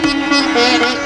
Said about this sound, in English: Stretch a rubber band between your thumb and a finger.